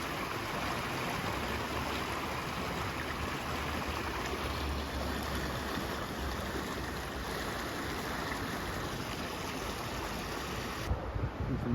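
Paradise Creek in Pullman, Washington, running high after rain: a dense, steady rush of fast water roaring close by for the whole stretch, with no talk, only a slight shift near the end.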